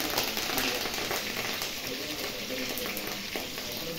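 Curry leaves crackle and sizzle as they drop into hot oil, a dense steady frying hiss that carries on unbroken close by, with no voices over it.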